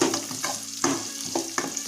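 Onions frying in a pan with cardamom, a close steady sizzle broken by quick rhythmic scrapes of a spoon stirring.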